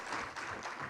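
Audience at a teacher training event applauding the MCs, a short dense patter of clapping from a hall crowd, steady and moderately loud.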